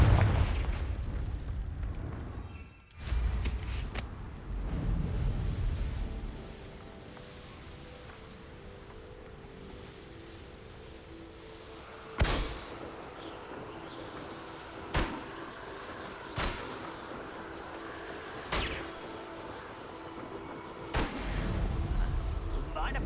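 The Confringo fire spell in Hogwarts Legacy sends out a run of sharp blasts spaced a few seconds apart, each with a short booming tail, over constant rumbling game ambience and voices.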